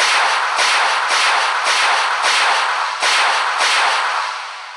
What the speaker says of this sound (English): Now let's go for the AT-4, and this is in fact a rocket launcher.